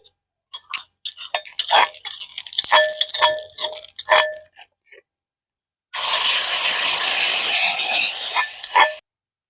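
Chopped shallots frying in a pan for a banana curry: clinks and scrapes of a spoon stirring come in bursts, then a loud continuous sizzle takes over for several seconds before stopping abruptly.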